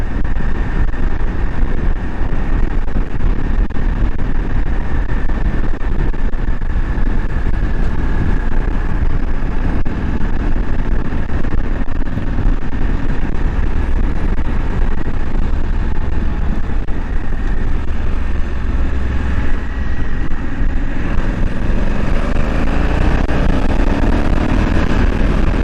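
A Honda Africa Twin DCT motorcycle riding at steady speed, a continuous low engine drone mixed with heavy wind rush over the microphone, unbroken for the whole stretch with no voices.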